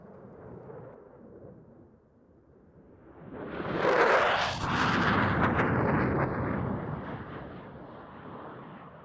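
A Danish F-16AM fighter jet making a high-speed pass at an air show display sweeps in as a loud roaring whoosh that swells, peaks and then trails off into a lingering rumble.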